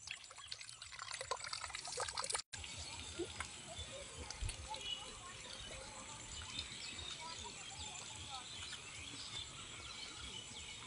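Water pours steadily from a container as a child's hands are washed before a meal, a continuous splashing trickle running under faint background voices.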